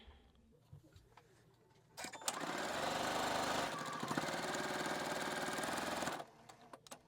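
A sewing machine stitches quilt pieces together for a twirling tulips quilt block, running steadily for about four seconds in a loud continuous buzz, with quieter handling sounds before and after.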